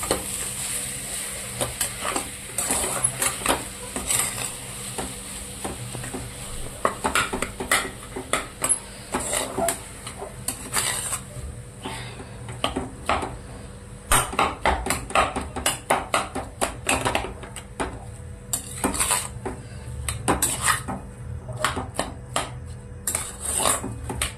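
Chutney for bread pakora being mixed in a bowl with a spoon: rapid, irregular clinking and scraping strokes repeating steadily at close range, with no talking.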